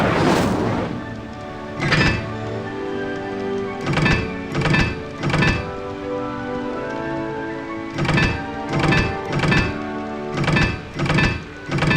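The Incendio fire spell in Hogwarts Legacy, with repeated heavy whooshing bursts in uneven clusters over a loud, steady rumbling game soundscape, no speech.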